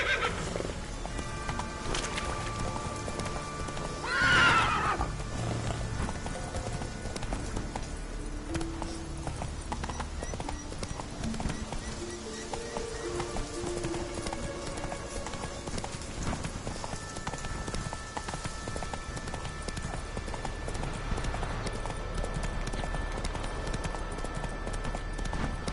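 Roach, the horse in The Witcher 3: Wild Hunt, with steady rhythmic clip-clop hoofbeats nearby and a neigh partway through, over game music and background sound, with some brief talk.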